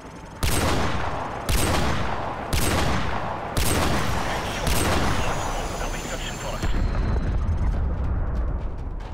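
Call of Duty: Modern Warfare Remastered combat: a helicopter fight with loud, evenly spaced heavy gunshots booming about once a second over a constant roaring battle din.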